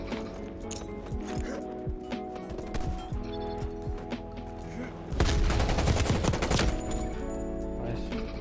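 Pistol fire in Black Ops Cold War, a run of sharp, rapid shots over a noisy game backdrop, with a louder, denser burst of gunfire near the middle.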